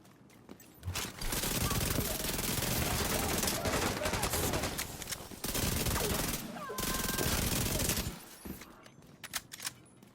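Rapid gunfire from a shotgun build in The Division 2, loud and near, with dense overlapping blasts in sustained bursts and brief pauses between volleys.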